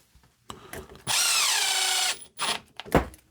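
Power driver briefly runs a screw into a plastic part on a Redcat Vertex 6 RC crawler, a steady whirring burst of about a second with quieter handling clicks and a short voice around it.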